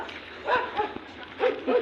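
A dog barks several times in short yips at a moderate distance on a dusty road, with bursts around the middle and end over steady background noise.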